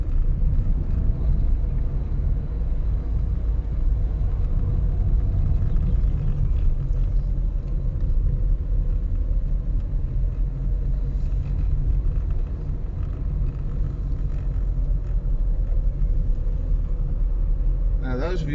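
A car drives along a road with a steady, heavy low rumble of engine and tyres that holds unbroken for the whole stretch, loud and close as if heard from inside.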